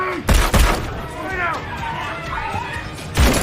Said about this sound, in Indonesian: datanglah pasukan SAS yang langsung menembak Salim hingga tewas